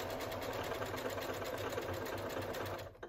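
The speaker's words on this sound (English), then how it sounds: "I'll hit my knot key, and usually it'll finish the stitch and end it" A home sewing machine working on a crazy quilt runs in a fast, even stitching rhythm as it finishes a seam and ties off a locking knot, then stops abruptly near the end, close and alone.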